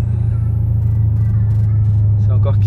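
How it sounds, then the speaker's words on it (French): Inside the cabin of a Dodge Charger Hellcat, a deep steady engine drone fills the background while a thin, high supercharger whine rises faintly above it, with people talking over the top. "Je sais pas si vous entendez le compresseur là, le sifflement, on l'entend vachement bien nous dans l'habitacle."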